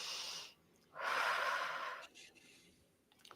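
Audible breaths during a held exercise squeeze: a strong exhale for about half a second, a pause, then a longer forceful breath lasting about a second, followed by softer rustling, close and fairly quiet with no talking.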